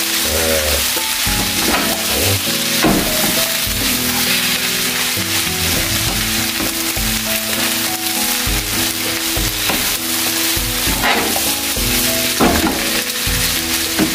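Fried rice with petai, vegetables and shrimp stir-fried in a small pan gives a steady, close sizzle throughout, broken by repeated scraping and tossing strokes, with no talking.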